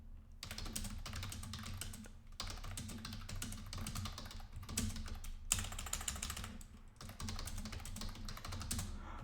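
Steady, rapid typing on a computer keyboard as a code comment is written, close and continuous dense clatter of keystrokes with brief pauses, no talking.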